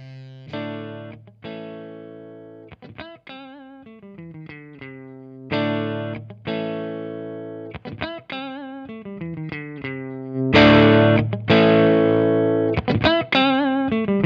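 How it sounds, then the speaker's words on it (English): An electric guitar plays through Behringer drive pedals, with distorted chords and single-note phrases, loud and close, with sharp stops and restarts and a heavier, more saturated passage toward the end. "those were the tones of each and every single Behringer pedal"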